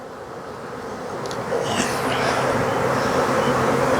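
Honey bees buzz around an open hive in a pollination bee yard, a dense continuous drone close to the microphone that swells slightly louder over a few seconds, with occasional individual bees flying past.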